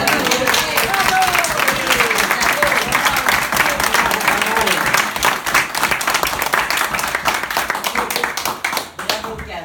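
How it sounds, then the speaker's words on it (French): Party guests applaud warmly at a birthday celebration held in honor of Colette, a dense, steady burst of many hands clapping with some voices and cheers mixed in, holding strong before thinning slightly near the end. "Une bonne main d'applaudissements."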